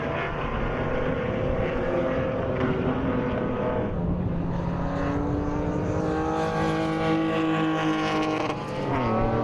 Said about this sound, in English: the BMW M Performance Pass Racing Series race 2 combined classes A, B, C, D and E all on track at the same time